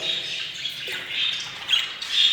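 A bird gives harsh, raspy squawks in short bursts, close by, with no talking.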